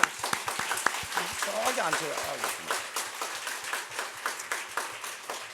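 A church congregation at a Sunday service claps in a rhythmic, fairly close round of applause, with someone talking over it.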